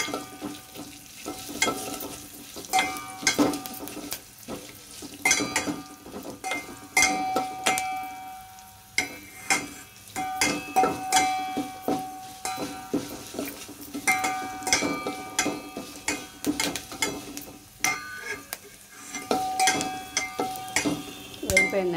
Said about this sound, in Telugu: ఈ తాలింపు సామాన్లు అన్నీ ఇందులో వేసుకోవాలి. ఇది బాగా వేయించుకోవాలి.